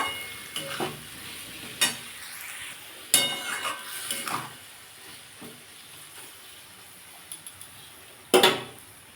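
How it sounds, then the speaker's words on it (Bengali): Masoor dal with kakrol sautéing in a pan that is covered between stirs, heard as scattered close clinks and scrapes of a spoon and lid against the pan over a faint background sizzle. "আমি এটা চাপা দিয়ে দিয়ে কষিয়ে নেবো"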